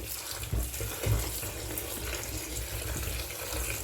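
Tap water runs into a sink with washing-up liquid in it, a steady close gush and splash with a couple of brief clunks near the start and no talking.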